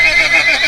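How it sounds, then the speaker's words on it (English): A horse playing a unicorn lets out a short, alarmed whinny as it bucks in fright: a single loud, close, high-pitched cry, heard alone. "Kofi's unicorn bucks and lets out an alarmed whinny, frightened of the small animal."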